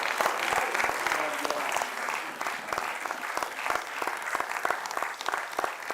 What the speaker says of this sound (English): Can we hear a big applause?